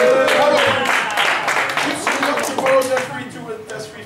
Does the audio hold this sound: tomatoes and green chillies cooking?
no